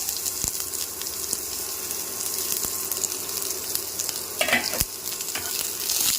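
Onions frying in hot oil in a pan, added after a nigella seed tempering for a yardlong bean mash; a steady, close, crackling sizzle with a few sharp clicks and stirring sounds, no talking.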